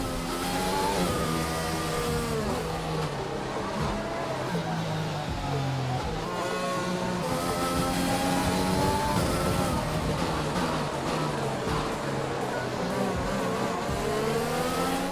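Formula 1 race car engine from the game F1 2020 at Silverstone, a high, whining harmonic drone that rises and falls with gear changes, loud and continuous under spoken commentary.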